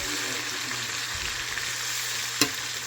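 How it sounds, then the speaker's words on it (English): Farm-raised chicken fries in a cast iron skillet with a steady, dense sizzle that holds close and even throughout, broken once near the end by a sharp clack. "Flipping this chicken over for the first go around."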